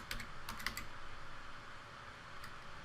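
Quick bursts of keystrokes clatter on a computer keyboard, a few clustered taps early on then sparse clicks, close and fairly quiet.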